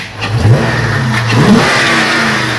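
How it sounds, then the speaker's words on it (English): A car with an overheating engine and a faulty water pump starts and revs loudly close by, rising and falling, then settles into a steady mid-pitched run. "we're gonna fire this thing up and see exactly what's going on"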